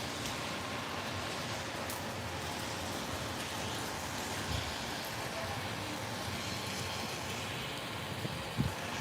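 Monsoon rain falls in Las Vegas as a steady, even hiss of drops with faint road traffic in the background, broken near the end by a few small knocks.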